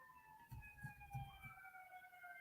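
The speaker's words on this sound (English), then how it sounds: "You can hear the sirens." Emergency sirens wail far off from a wreck somewhere, faint sweeping tones gliding slowly downward, with a few soft low thumps close by.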